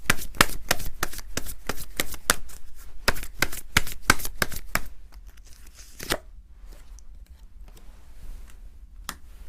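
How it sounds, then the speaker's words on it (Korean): Tarot cards shuffled for a reading, a quick run of crisp riffling snaps up close that stops partway through, leaving a few faint soft taps and handling noises in a quiet room. "추가 카드를 좀 더 뽑아보도록 할게요"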